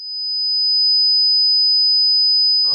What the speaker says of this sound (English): Now listen to a high frequency sound.